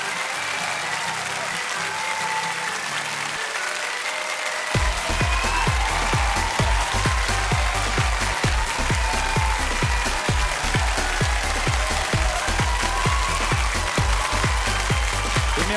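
Sustained applause from a studio audience at a televised opera singing contest results show, steady clapping that swells into a louder, rhythmic beat after the first few seconds as finalists walk out.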